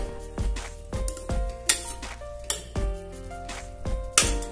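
Spinach is sautéed in a pan for palak dal, with a spoon knocking and scraping repeatedly against the metal over a soft sizzle. The rhythmic clanks ring out close and clear, and nobody talks.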